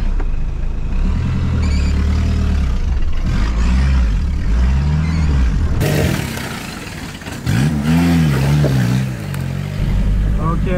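A 4x4 micro van's small engine revs and bogs repeatedly as the clutch slips, rising and falling drones close up with a brief dip midway, under light talk.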